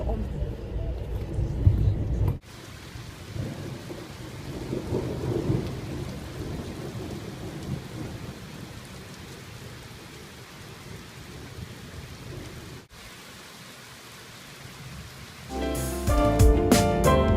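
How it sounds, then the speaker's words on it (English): Heavy rain pours steadily during a thunderstorm, with deep rumbles of thunder rolling underneath, and a sharp crack heard near the start; the downpour fades slightly midway and returns strongly at the end. "it's meant to be thunderstorms again today"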